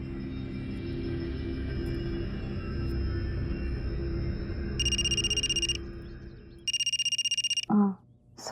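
A mobile phone ringtone for an incoming call sounds in two bright, loud electronic bursts, each about a second long with a short gap between them, over a low background hum. No one speaks while it rings.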